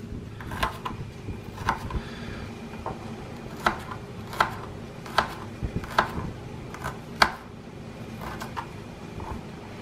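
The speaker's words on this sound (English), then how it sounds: "I'm going to chop these ramps up just into small little pieces" A knife chops wild ramps into small pieces on a cutting board, giving a dozen or so sharp, irregular knocks close by over low background hum.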